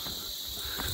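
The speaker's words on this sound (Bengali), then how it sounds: "ঝিঝি পোকার আওয়াজ" Crickets chirp in a continuous high-pitched drone along a quiet mountain trek trail near a Himalayan temple at Kausani. The sound is faint but constant, and nothing else is heard.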